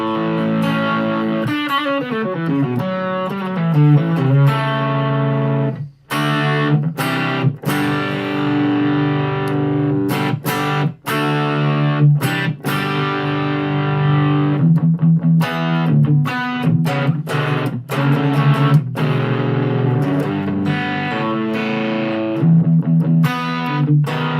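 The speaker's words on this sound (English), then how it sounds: "This is an overdrive. It's not a distortion." A blues-style overdrive pedal drives an electric guitar through a long, loud run of crunchy chords and single notes, with frequent short stops and restarts and no voices.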